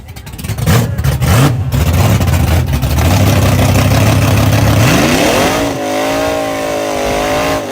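A race car with open headers revs hard at a street race night, a loud close raw engine roar that holds for several seconds, then drops and swings into a wavering lower rev near the end, with a little background chatter.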